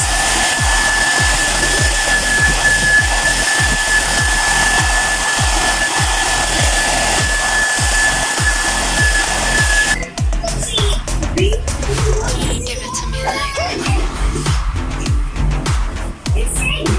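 A GAABOR hair dryer runs loud and close with a continuous whirring blow, its tone shifting partway through and then carrying on steadily.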